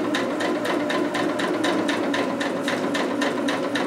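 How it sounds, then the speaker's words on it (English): A sewing machine stitching over fabric during a sew-along for Vogue 2530, running close and loud as a fast, even mechanical chatter of needle strokes, with no speech. "You can just stitch on top of it like I'm doing right now."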